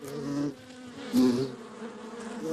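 Close, continuous droning of a bee in flight, swelling louder twice as it passes near, with no voices present.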